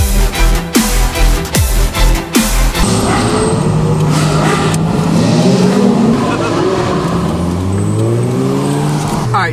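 Ferrari sports car engine revving and accelerating hard on a highway closed off by police, loud and close, with rising and falling engine pitch as it pulls away; a voice can be heard briefly early on.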